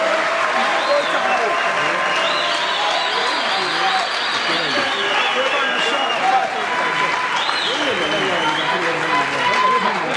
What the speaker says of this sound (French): Martin Fayoulou, que je vous demande d'applaudir très fort.